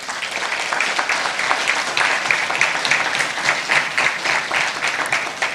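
Audience at an education awards ceremony applauding 29 top achievers, a loud, dense and sustained round of clapping from a large crowd, steady from start to finish.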